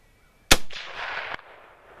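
A single sharp rifle shot from a 1928 Mosin Dragoon cracks loudly up close from a bench-style rest outdoors. A rushing echo trails it for about a second before fading.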